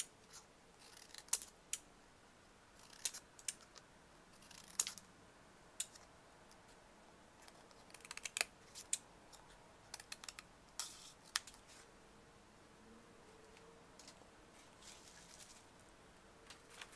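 Scissors snip through cardboard, fabric and paper in quiet close-up, with sparse crisp cuts coming in irregular bursts against near silence.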